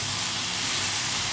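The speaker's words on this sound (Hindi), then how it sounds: "मसाले के साथ पहले इन्हें सूखी सब्जी को अच्छी तरीके से हमें भूनना है।" Ram phali vegetable roasting with spices in a pan, a steady, loud hiss and sizzle that holds without a break.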